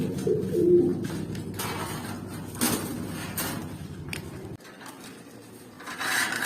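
Pigeons, including a hook-beaked pigeon, coo softly in a loft with low rolling calls, close by, joined by faint rustles and a brief sliding knock.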